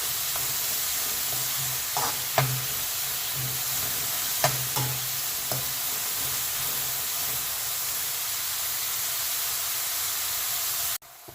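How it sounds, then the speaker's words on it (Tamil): Onions frying in a pan for a spicy pepper chicken roast, with a steady broad sizzle and a few sharp clinks of stirring near the start, then a sudden cut to near-silence at the end. "இந்த வெங்காயம் நல்லா சாட் ஆகிறது வரைக்கும் நாம் நல்லா இதை ஃப்ரை பண்ணலாம்."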